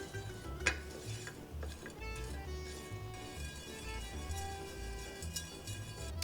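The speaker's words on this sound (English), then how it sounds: "We will toast our pepper for about 2-3 minutes" Black pepper toasting in a pan over medium heat and stirred, a quiet soft scraping and rustle with faint sizzle and occasional light clinks of a utensil against the pan, no talking.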